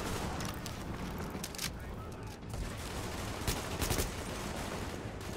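Dense sustained gunfire from The Division, PC shooter in the Lincoln Tunnel on challenging difficulty, as steady suppressing fire with overlapping bursts and louder cracks, mixed under voices talking throughout.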